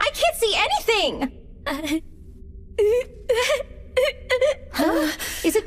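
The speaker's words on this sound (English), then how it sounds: "does it sound like someone is crying?" A young anime girl wails and sobs in repeated bursts of high, quavering cries separated by short pauses, close and loud.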